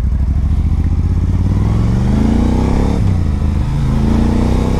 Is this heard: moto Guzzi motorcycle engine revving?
yes